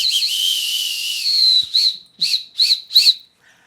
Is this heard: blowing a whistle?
yes